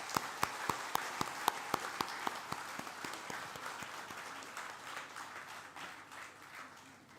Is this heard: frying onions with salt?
no